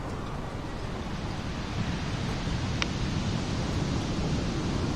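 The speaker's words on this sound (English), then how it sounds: "Lightning strikes here and there as the storm begins to grow." Storm ambience with steady wind and crashing waves, a dense constant roar that swells slightly midway and runs on with no voices.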